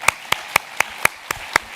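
Audience at an academic summit in Paris-Saclay claps in an even beat, seven crisp, close claps spaced about a quarter second apart with no talk over them.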